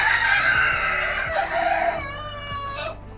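Caged chickens cluck and squawk close by in a busy, overlapping chorus, with a rooster-like crow rising briefly near the end.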